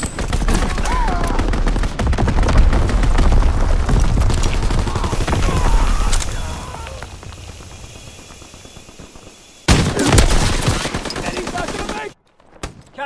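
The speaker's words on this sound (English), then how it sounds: "Enemy mortar fire incoming!" Enemy mortar and artillery fire in the World War II shooter Call of Duty WWII: dense bursts of gunfire and booming impacts layered together, loud and chaotic, fading toward the end before a final sharp blast.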